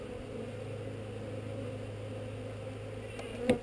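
Honeybees buzzing steadily during a honey harvest, a continuous low hum of many insects close by with a brief louder knock near the end and no talking.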